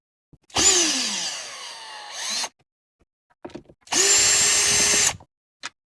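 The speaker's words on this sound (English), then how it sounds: "looks like I got some screws to take out. There's 2 Phillips head screws here" A cordless power tool backs two Phillips head screws out of the centre console of a 2025 Nissan Z. There are two close, whirring bursts of about two and one seconds with small clicks and handling noises between them.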